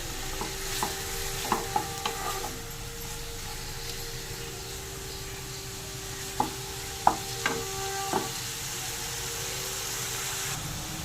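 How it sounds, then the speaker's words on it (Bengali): Minced mutton and mutton fat stir-frying in a pan with a steady low sizzle, punctuated by several sharp clinks and scrapes from a spatula against the pan. "মাটনের যে চর্বি আর কিমা ধুয়ে পরিষ্কার করে রাখা ছিল সেটাও দিয়ে দিলাম, দিয়ে একটু নেড়ে নেব এর সাথে"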